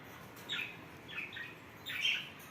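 Budgerigars in a breeding setup in a stairwell give three short, bright chirps at an even spacing over quiet room tone, somewhat distant and soft.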